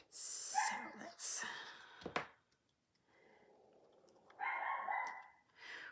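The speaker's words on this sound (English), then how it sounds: "Oh, my dog's barking." A pet dog barks several times close by, sharp yelps in short bursts with gasping pauses between them and no talking.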